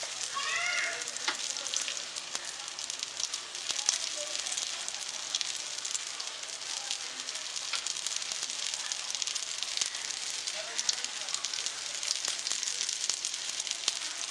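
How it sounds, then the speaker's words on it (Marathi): Semolina-coated pea patties frying in a pan give a continuous dense crackling sizzle, even and close throughout with no voices. "ते रवा लावून अशा पद्धतीने फ्राय करून घेणार आहोत"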